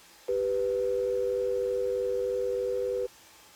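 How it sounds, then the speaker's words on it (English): Telephone dial tone on a receiver line, a single steady loud hum held for about three seconds alone, then abruptly cut off. "The Sioux City Strangler held the receiver to his ear and listened to the dial tone."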